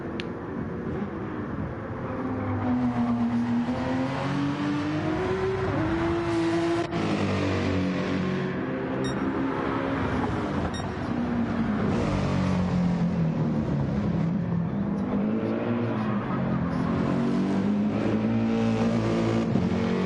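A Porsche GT3 race car engine accelerating, loud and sustained, its pitch climbing and dropping through gear changes with a continuous strained roar from close by.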